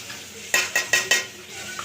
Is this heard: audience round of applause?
no